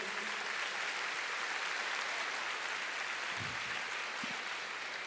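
A church congregation applauds in a dense, continuous wash of clapping that holds steady and fairly loud from start to finish, with no voices standing out.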